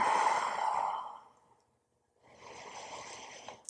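Deep, audible breaths during a gentle prenatal yoga floor stretch: a long sighing exhale, a short silent pause, then another slow breath, close and soft.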